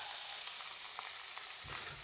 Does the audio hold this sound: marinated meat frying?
yes